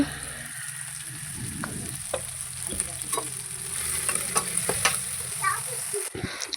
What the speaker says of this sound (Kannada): ಒಂದು 3 ಟೊಮೊಟೊನ ಕಟ್ ಮಾಡಿ ಸೇರಿಸ್ಕೊತಿದ್ದೀನಿ. ಇದು ಸ್ವಲ್ಪ ಫ್ರೈ ಮಾಡ್ಕೋಬೇಕು.